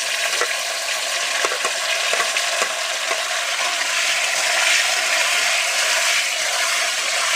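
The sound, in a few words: thin tomato slices frying in oil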